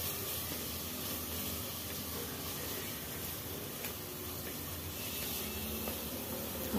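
Masala paste frying in a pan for a double beans vegetable pulao, a soft continuous hiss and sizzle, steady and fairly faint, with no voices.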